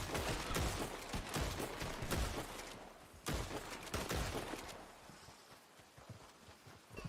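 Rapid bursts of gunfire crackle through a roleplay shootout in Red Dead Redemption 2, dense volleys of shots clustered for several seconds before thinning out into scattered cracks, with no talking.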